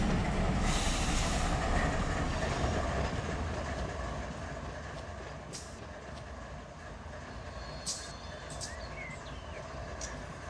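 Locomotives hauling a half load of railcars through Barstow Yard in the Run 8 train simulator game, a dense rumbling roll that fades slightly over time, with occasional metallic squeals and clanks over the steady noise.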